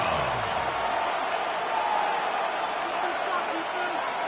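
Packers vs Bears football stadium crowd before a third down, a dense, constant roar of many voices that holds steady and loud throughout.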